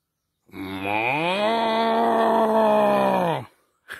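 A man imitates a cow's moo with his voice: one long, loud, drawn-out lowing call lasting about three seconds, followed by a brief separate sound at the end.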